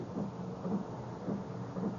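Heavy rain pours steadily with a low rumble of thunder beneath it, a dense continuous wash of sound with no voices.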